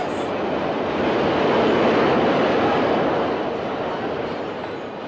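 A subway train rushes past with a broad roaring swell that builds, peaks midway and slowly fades, steady and fairly loud with no talk over it.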